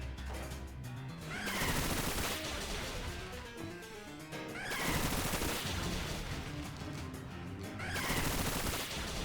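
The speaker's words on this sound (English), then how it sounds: "now we Bullet Seed" Pokémon Violet Bullet Seed attack: three loud bursts of rapid, rattling multi-hit impacts, each lasting a couple of seconds and separated by quieter battle music.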